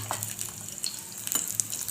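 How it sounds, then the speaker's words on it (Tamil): Cashews and raisins fry in ghee for boondi laddu, giving a soft, continuous sizzle with light crackles and a few faint scraping touches. The frying sits close and moderately quiet, with no speech. "அதையும் சேர்த்துட்டு நல்லா வறுத்து எடுத்துக்கலாங்க"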